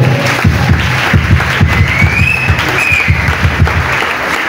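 A church congregation claps together in steady, rhythmic applause, a dense and loud crowd sound with faint voices mixed in.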